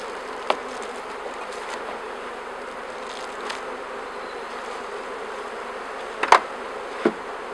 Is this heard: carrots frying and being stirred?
no